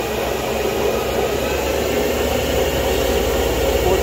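Harrison Alpha 400 CNC lathe spindle running under manual control at around 1200 RPM, a steady loud mechanical whine and broadband hum that holds constant throughout, with no talking.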